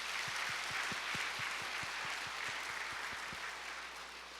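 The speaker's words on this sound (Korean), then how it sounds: "동산의 가족이 되신 분들에게 마음을 담아 박수로 환영하겠습니다." Churchgoers at a Sunday morning service clap to welcome newly registered members, a soft, slightly distant round of congregational applause with a steady rhythmic patter of hands over a low room hum.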